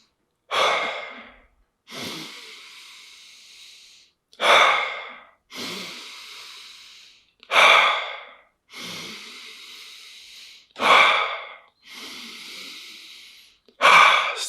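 Deep, rhythmic breathing in the Wim Hof method, with about four cycles of a sharp, forceful inhale followed by a longer, softer exhale, close and clear with no talking.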